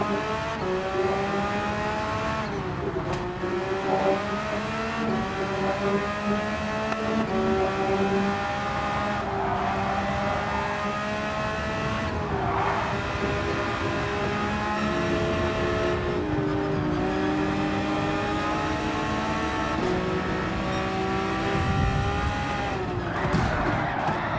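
A Porsche 911 GT3R (992) race car in the Gran Turismo 7 video game, its engine screaming through repeated upshifts and downshifts with sweeping revs, loud and close over about twenty-four seconds of continuous driving.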